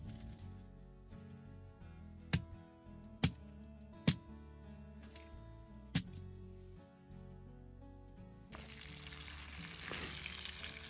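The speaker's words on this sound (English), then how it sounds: "we're cooking up some bacon" Bacon sizzles and crackles steadily in a pan on a hot tent stove at a frozen-lake winter camp, with several sharp knocks or clatters and a louder, hissier burst of frying near the end.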